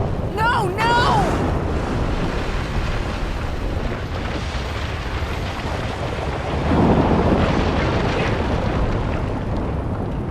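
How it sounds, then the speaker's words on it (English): A building collapses in RoboCop: Rogue City with a sustained, loud rumbling roar and a wash of debris noise that swells partway through, while a voice shouts briefly at the start. "When the building collapses, the dust cloud will choke the engine."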